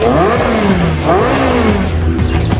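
A Ferrari 3.6-liter V8 engine revs hard and loud up close, its pitch rising and falling through several sharp throttle blips.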